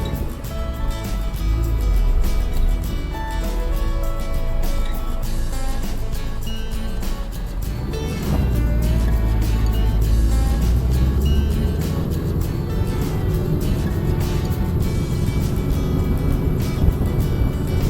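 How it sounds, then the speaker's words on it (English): A Subaru Outback and a Toyota Hilux Surf strain uphill on an off-road trail, their engines revving loud and low, rising and labouring continuously with rattling and clunking over rough ground. "You can really hear both rigs struggling as we head up this section."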